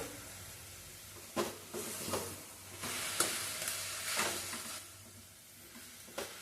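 Moringa leaves and a handful of coriander are stirred in a hot pan, giving a steady soft sizzle broken by several louder scraping strokes of the spoon, close and with no talking.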